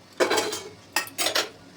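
A metal momo steamer pot is lifted off the stove, giving a few clanking scrapes and knocks of metal against metal, short and close, with no voices.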